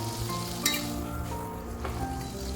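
Butter and olive oil sizzle in a pan as vegetables are sautéed, a constant crackling fry close by with a few utensil clinks and stirring scrapes.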